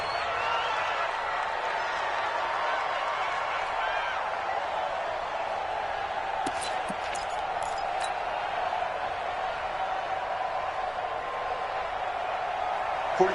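A stadium crowd in an American football video game, a steady distant roar of murmur and faint cheering that holds at an even level throughout, with no clear peaks.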